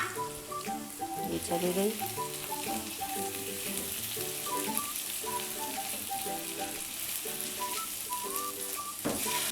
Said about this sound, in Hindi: हम अनियन को भी बस 2 to 3 मिनट्स जो है इसे फ्राई करेंगे